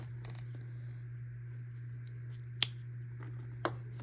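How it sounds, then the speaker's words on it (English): Scissors snip through a crochet yarn tail, two short, sharp clicks spaced about a second apart and heard close up over a steady low background hum, with no talking. "Now where we ended, we are just going to cut off a tail"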